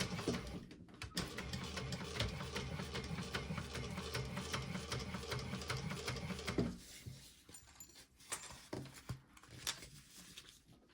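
A sewing machine stitches a seam along a pocket panel, a fast steady mechanical whir with rhythmic ticking that runs for several seconds, then stops as softer handling clicks and rustles follow.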